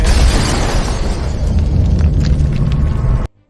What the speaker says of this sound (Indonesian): seketika mobil tersebut meledak